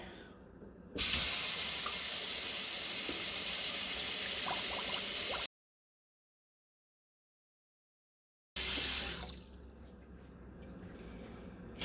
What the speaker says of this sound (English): right away, you heard the bubbles and it started backing up really quickly